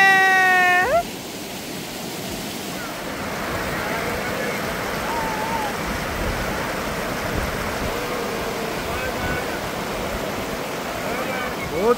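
A waterfall pours down from above at Yusmarg in Kashmir, a broad steady rushing wash that holds for many seconds, with a brief voice and a few high tones at the start and end.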